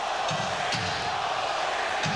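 An arena crowd at a Jazz versus Suns first-round playoff basketball game voices displeasure at a referee's call, with a steady, loud wash of boos and shouts filling the space.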